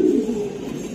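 Pigeons kept for racing coo in a low, steady murmur, close by and fairly loud for about a second with no talk over them.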